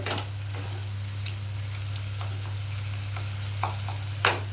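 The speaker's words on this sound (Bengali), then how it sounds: "এইভাবে একটুখানি নেড়ে নেড়ে দেবেন" Kachur lati (taro stolon) curry, nearly cooked, being stirred in a pan; a soft, steady sizzle continues under a low hum, with a few faint scrapes and clicks of the spoon.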